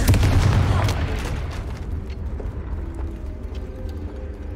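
An explosion from the Confringo spell in Hogwarts Legacy, a heavy booming blast up front that decays into rumbling, mechanical rattling game ambience over several seconds.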